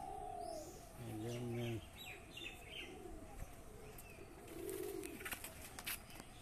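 Shahjahanpuri pigeons coo in a loft, a few low, rounded coos rising over a steady background hiss, with a faint chirp or two in between and no talking.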